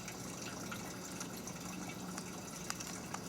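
A Hydrautomat self-powered water pump fills with water, a steady broad rushing and gurgling with occasional small drips and splashes, continuous and close.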